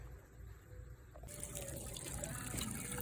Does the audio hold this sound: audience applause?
no